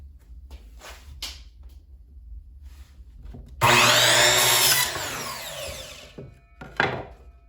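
Pallet wood boards being cut to length with a Harbor Freight power tool: a loud, dense burst of cutting for about a second, then fading with lighter scraping and a short final bite, after quieter handling noises.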